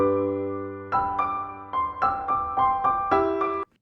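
Piano parts combined into a single stem play back alone: a sustained low chord rings first, then a string of bright, evenly spaced chord stabs follows, fairly loud and clear with no voices over it.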